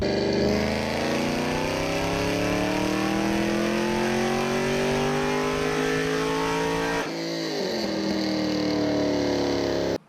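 A Pontiac Trans Am's engine revs and accelerates up close at the start of a test drive, pitch climbing steadily, dropping at a gear change, then rising again, loud throughout with no talking.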